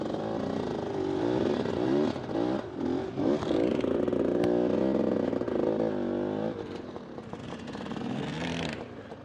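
Motorcycle engine idling and revving in uneven bursts while the bike turns slowly at full steering lock, pivoting around a rider's planted foot, with faint scrapes and clatter, close and steady, easing off near the end.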